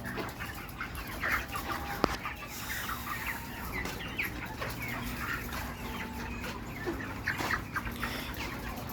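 Many caged chickens cluck and chatter at once, a dense constant flock sound with occasional louder squawks, close by.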